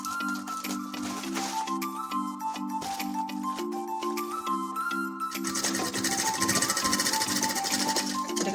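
A sewing machine runs steadily, stitching the bottom seam of a shopping bag made from a small plastic sack, its fast mechanical chatter continuous and close with a slight rise in intensity toward the end.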